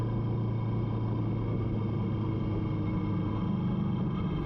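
A Kawasaki Vulcan S motorcycle ridden on a road, its engine giving a steady low hum and rumble that stays constant throughout, with no voices.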